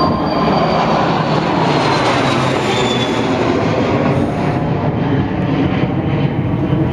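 A freight train of covered hoppers with a distributed power unit locomotive rolls past as a loud, steady rumble and roar of wheels and cars, constant and close throughout with no voices.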